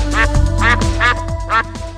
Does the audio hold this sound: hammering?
no